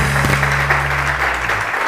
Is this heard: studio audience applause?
yes